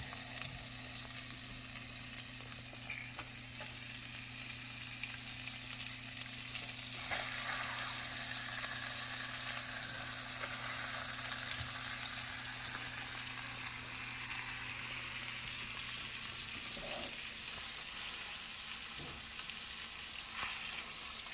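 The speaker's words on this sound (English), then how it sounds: "We're just going to brown them in the skillet." Chicken thighs browning in a skillet, a dense, even sizzle holding steady throughout at low volume, accompanied by a constant low electrical hum and a few faint clicks.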